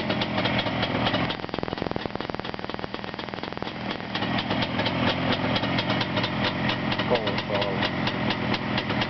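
Upgraded, strengthened Jawa motorcycle engine running steadily up close, a loud continuous mechanical clatter and rumble with rapid rhythmic pulses throughout.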